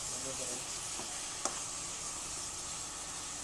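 Fish curry with beans and tomatoes being stirred and fried down in a pan: continuous close sizzling with scraping strokes of a spoon and one sharp clink midway.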